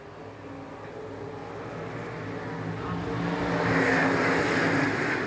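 Stock cars race down the backstretch at Shelby County Speedway, a blended engine roar that swells steadily louder as the pack approaches, broad and continuous with no distinct voices.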